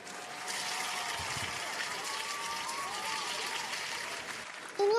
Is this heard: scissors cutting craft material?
no